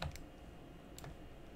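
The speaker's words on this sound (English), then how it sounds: "So I'm gonna hit F on my keyboard, like so." Two quick keypresses on a computer keyboard, the F key tapped in a quiet room, each a short crisp click about a second apart.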